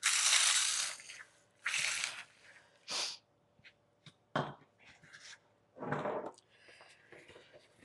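Crispy dried basil leaves crushed by hand in a kitchen: several bursts of dry crackling and crunching, close and fairly loud, separated by short pauses.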